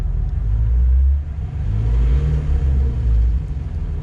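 A Ford Mustang GT350 at a track day, with the engine misbehaving, gives a deep, loud, close rumble that swells with revs, eases off briefly, then climbs again.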